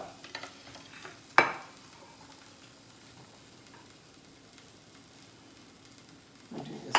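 Shrimp stir fry sizzling in a pan, a soft low sizzle broken by a sharp clatter early on and a louder burst of frying at the end, close and otherwise quiet.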